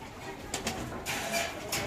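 Pigeons at a pigeon market coo in short soft bursts, a few low throaty calls rising over a quiet background hum, fairly close but not loud.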